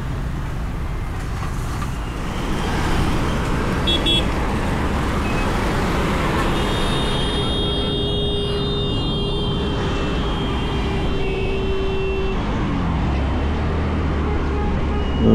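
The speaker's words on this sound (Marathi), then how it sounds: "गाड्या फास्टच चालतात इथे." Traffic on a road where vehicles drive fast, heard as a steady loud roadside roar of passing cars and buses, with a higher engine whine rising partway through and continuing to the end.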